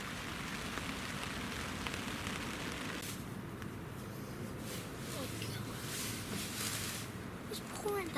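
Heavy rain pours down at night at a carp fishing lake, a dense, continuous hiss and patter drumming steadily on nearby surfaces with no letup.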